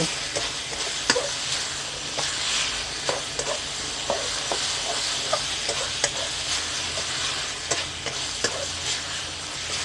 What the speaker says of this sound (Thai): กะเพรานี้ใส่ทีหลังนะคะ ตัวลงค่ะผัดให้เข้ากันเลย